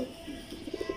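A pigeon cooing in a loft, a quick run of soft low rolling coos, close and fairly quiet over background noise.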